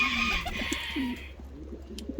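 Ottoman Hünkari pigeons in their coop give soft, low cooing calls close by, with a brighter rustle or flutter early on that fades, leaving quiet intermittent coos.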